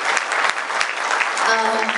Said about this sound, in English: You ought to give her a round of applause.